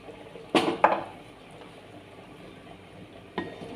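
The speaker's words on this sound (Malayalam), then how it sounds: "ഇതിന് ശേഷം നമുക്ക് മൂടിക്കൊടുക്കാം." A lid goes onto a pot of ghee rice with two close metallic clanks in quick succession, then a quiet stretch and one more lighter clink near the end.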